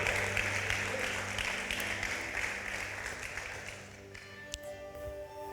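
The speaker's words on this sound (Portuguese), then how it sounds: "Pode aplaudir a Jesus" A church congregation applauds during a Brazilian evangelical sermon, a broad sustained clapping at moderate volume that thins toward the end, with faint tonal background sounds underneath.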